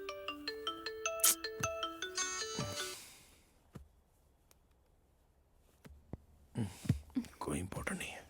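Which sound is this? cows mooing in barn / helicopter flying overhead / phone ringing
phone ringing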